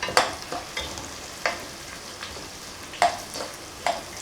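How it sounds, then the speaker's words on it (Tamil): Small onions sautéing in a pan for a village-style fish curry, stirred with sharp scraping strokes about once a second over a faint, steady sizzle, close and fairly quiet. "சின்ன வெங்காயம் வதங்கணும்"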